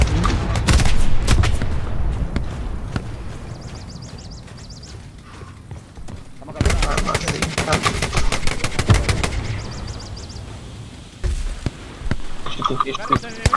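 Battle sounds from the World War II shooter Hell Let Loose, with bursts of rapid automatic fire and scattered single shots coming in waves, loud and close, a quieter lull in the middle, then renewed sustained bursts near the end.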